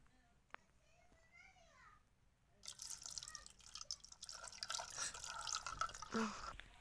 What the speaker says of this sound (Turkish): Şimdi suyumu koyacağım. Suyumu da dökeyim.